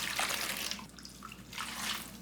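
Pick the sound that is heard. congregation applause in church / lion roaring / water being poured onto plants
water being poured onto plants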